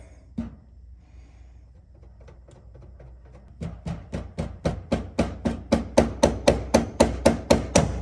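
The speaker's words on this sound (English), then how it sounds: "Get a little hammer." A small hammer strikes a brake line part on a 1968 Chrysler Imperial Crown, starting with a few light taps, then settling into a steady run of loud, evenly spaced metallic blows close by.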